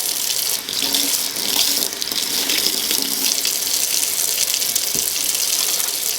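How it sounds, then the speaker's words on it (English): Tap water runs continuously and loudly into a sink while hands are washed with handmade soap, a dense, steady splashing rush that fills the whole stretch. "It does feel good to wash your hands with it."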